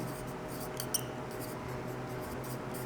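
Chalk or marker scratching on a board during a lesson, with short strokes and a couple of sharper taps against a steady background hum. Nobody speaks over it.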